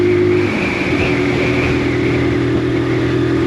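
A brand new Keeway X-Light 125 motorcycle accelerating gently, its engine note loud and close with a steady droning pitch that rises slightly, under heavy wind rush.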